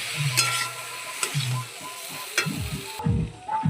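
Chopped pointed gourd (potol) sizzles and sputters in a pan with spices, close and steady, as a spoon stirs it with intermittent clinks and scrapes against the metal.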